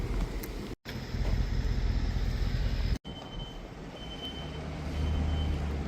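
Lifted van engine rumble on an off-road trail in Big Bear, with a steady high-pitched buzzer tone beeping over it, cutting out briefly twice.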